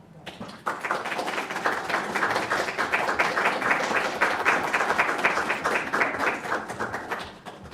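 An audience at a school board meeting applauds school staff with steady, dense clapping that starts abruptly, holds at an even loud level for several seconds, then thins out near the end.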